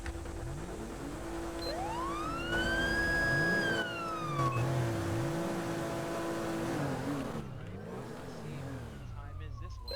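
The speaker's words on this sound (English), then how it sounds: "Do we need sirens first on this one?" A police car siren in GTA 5 sweeps up and down in slow wails over a constant engine drone, moderately loud, with a low tone pulsing beneath.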